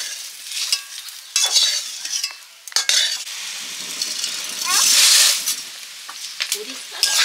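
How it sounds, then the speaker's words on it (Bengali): Bitter gourd (uchche) frying in a pan with turmeric and salt, a steady sizzle broken by bursts of stirring and spatula scrapes against the pan, close and fairly loud, with no talk. "উচ্ছে ভাজা হয়ে গেছে।"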